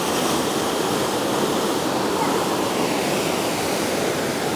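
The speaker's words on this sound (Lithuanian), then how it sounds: "jeigu ten nelabai taško tos bangos" Ocean waves at Diamond Beach on Nusa Penida make a dense, continuous roar of surf, loud and steady throughout with no break or voices.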